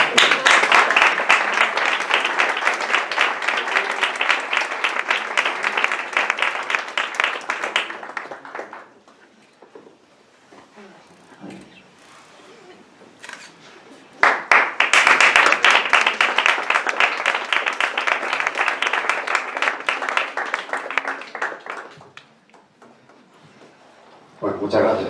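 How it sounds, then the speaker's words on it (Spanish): Two long bursts of loud applause from a crowd at a poetry book launch, each lasting several seconds, separated by a quieter stretch with scattered claps and murmuring. "Un fuerte aplauso."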